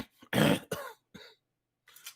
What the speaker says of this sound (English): Y'all hear me coughing on the show.